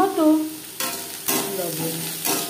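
Onions frying in a pan with turmeric powder added for a potato curry with mutton fat and liver: a steady sizzle broken by a few scraping stirs of the spatula, close and clear.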